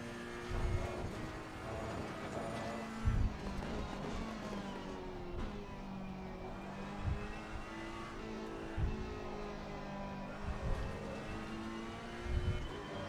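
A Porsche race car in the video game Assetto Corsa Competizione holds a sustained engine whine. The pitch rises and falls through gear changes, with periodic thumps and bursts, heard from inside the car at moderate loudness.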